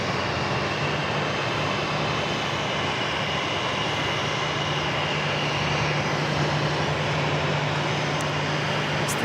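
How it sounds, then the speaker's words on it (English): An Airbus A319 jet taxiing into the gates at Phoenix Sky Harbor gives a continuous, fairly loud broadband engine rush with a steady low drone underneath, holding level throughout without talk. "A319 heading into the gates just below us here"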